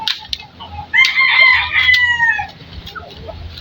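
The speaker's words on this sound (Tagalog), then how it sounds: "Inubugaw ko lang yung mga, inahin." Close-up burst of hens clucking and squawking, loudest in the middle and then settling into quieter scattered clucks at a rural feeding.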